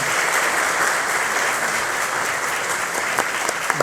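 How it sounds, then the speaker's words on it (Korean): Sustained applause from a large crowd at a political party workshop, a dense steady clatter of many hands filling the room throughout with no speech over it. "열심히 하라는 의미로 큰 박수 부탁드리겠습니다"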